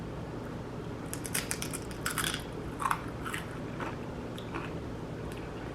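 Crunchy bites and chewing of homemade sharp cheddar cheese crisps, a keto snack: a few close, crackling crunches in separate bursts over a faint steady background hiss.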